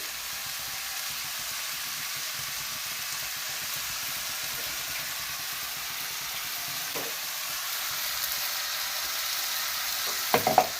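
Fish heads going into a simmering vegetable curry in a home kitchen, a steady soft sizzle and bubbling with a couple of sharp clinks of a utensil near the end.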